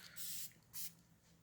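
Setting spray misted onto a face during a makeup routine, heard as two short, close pressurised hisses with a brief gap between them, with no talking.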